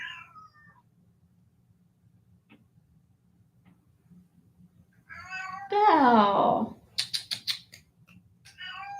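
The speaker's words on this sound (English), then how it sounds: "Yes, that was my cat meowing." A house cat meows several times, close and clear, in a quiet indoor room, followed by some rapid clicking; a voice speaks briefly before and after.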